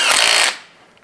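An impact gun rattles hard on the crankshaft of an Atlas five-cylinder engine during teardown, a single loud burst of rapid hammering lasting about half a second before cutting off.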